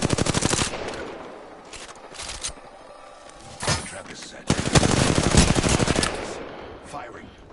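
Video game gunfire: loud bursts of rapid automatic shots open and close the stretch, with scattered single cracks in between. A voice speaks briefly between the volleys.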